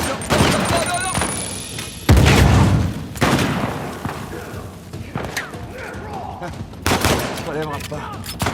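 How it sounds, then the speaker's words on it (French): Grenade blast and gunfire in a video game, with sharp bursts of shots and a heavy booming explosion amid intermittent firing and thuds, loud and close, with voices talking over the action. "Lance une grenade!"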